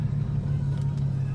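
A supercharged Mercedes SLK32 AMG with an M112K engine and long tube headers holds a steady, deep engine drone, close and continuous for a moment.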